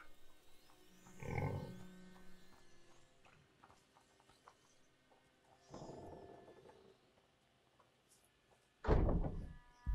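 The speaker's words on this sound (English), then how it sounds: "I'll close the door." A door closing in the game A Plague Tale: Innocence, heard as a few separate thuds: one at the start, a softer one midway and a louder, sharper slam near the end, in a quiet interior.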